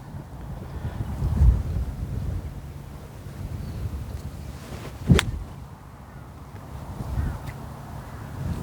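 Wind gusting across an outdoor golf practice tee, a low rumbling buffet against the microphone that swells and fades, with one sharp brief knock midway.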